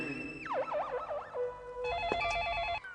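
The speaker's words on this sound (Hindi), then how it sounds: "फोन की घंटी बज रही है।" A telephone rings with warbling electronic tones, a sweeping trill followed by a rapid stepped pattern, fairly faint and heard alone.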